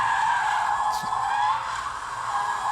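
Tire skid from a car drifting in the racing video game Asphalt 8, a sustained screeching squeal that stays loud and steady throughout, with no talk.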